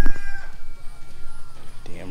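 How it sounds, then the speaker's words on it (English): A rooster crows somewhat distantly, its call rising over a steady low background hum, with a few brief knocks at the start and end. "Damn rooster."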